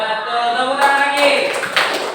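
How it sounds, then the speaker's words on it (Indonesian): Students in a seventh-grade informatics classroom clap together for a classmate, a brief burst of applause filling the room at close range. "Betul, tepuk tangan lagi."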